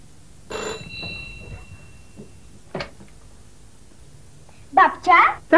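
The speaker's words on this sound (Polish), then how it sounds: "Dzwonię do babci." A telephone gives a short tonal ring near the start, followed by quiet knocks and clatter. Voices break in loudly near the end.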